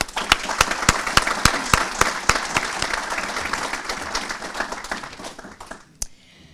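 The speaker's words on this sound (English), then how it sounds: "Please join me for a special round of applause now for all those who are working on our behalf" An audience at a city's State of the City address applauds, with sharp, evenly spaced claps standing out over a dense, sustained round of clapping that thins out and stops near the end.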